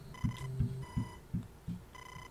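A telephone ringing in the NES game Earthbound Beginnings (Mother) on Wii U: a chiptune ring tone of steady high beeping tones in repeated bursts over a low pulsing game soundtrack, with no talk.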